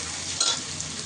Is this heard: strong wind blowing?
no